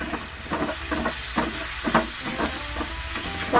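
Tomatoes with curry leaves sautéing in a pan for pepper prawn fry, a continuous close hiss and sizzle with rhythmic soft scraping strokes of stirring.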